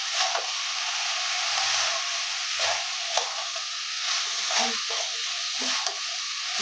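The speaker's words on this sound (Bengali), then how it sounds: "2 মিনিট ভালো করে আবারও কষিয়ে নিলাম।" Chicken sizzles and fries in a pan while being stirred, a steady hiss broken by occasional scraping clicks of the spoon against the pan.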